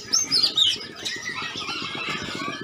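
At a bird market, a bird gives sharp, high warning chirps at the start, followed by a busy chorus of softer chattering birds in the background.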